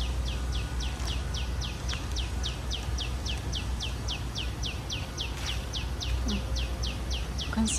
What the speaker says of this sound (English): This is all the birds inside.